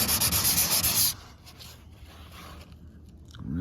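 Hand scrubbing and sanding on the surface of a 66-year-old boat: a loud, steady rasping rub for about a second, then softer, uneven scraping strokes that fade before a brief renewed rub.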